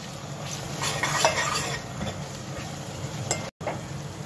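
Cumin seeds fry in a pan with a gentle sizzle while a spoon stirs and scrapes against the metal in irregular soft strokes, close and fairly quiet.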